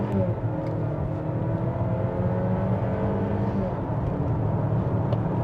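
A 2026 Volvo XC90 B5 Core SUV accelerates through a sharp, tight turn, its engine giving a steady, smooth drone with rising whirring tones heard from inside the cabin, continuous and fairly loud throughout.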